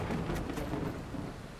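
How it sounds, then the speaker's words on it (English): Rain patters with a low rumble of thunder in the Bus Simulator video game, a faint, steady wash of rainfall and distant rolling thunder with no talking. "It's raining where I'm at."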